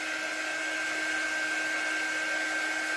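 A hair dryer blows steadily on a freshly painted Santa drop-in frame insert, a continuous airy whoosh with a high whine running unbroken and close throughout, no talking.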